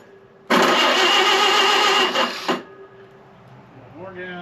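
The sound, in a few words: Model A Speedster engine starting with gas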